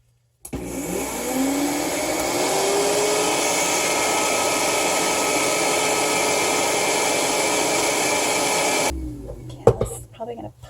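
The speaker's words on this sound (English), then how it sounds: "I'm just going to go ahead and let it grind" An electric grinder whirs steadily as it grinds vanilla salt, a loud continuous buzzing hum that stops abruptly, followed by a few faint clicks.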